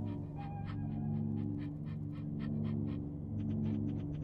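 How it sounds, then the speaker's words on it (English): A dog in a video game pants and yips in a string of short, bright bursts, fairly faint over a steady low background hum. "Bark, bark."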